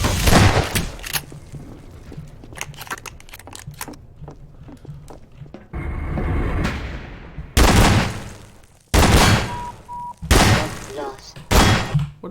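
Gunfire bursts in a video game crack out loud and close, clustered in heavy volleys between quieter stretches of game noise and thuds.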